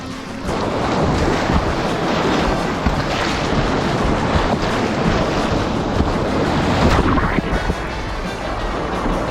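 A class 2 river rapid on a steep, straight run in Kentucky gives a loud, continuous roar of rushing water, with wind gusting across the microphone and no one speaking.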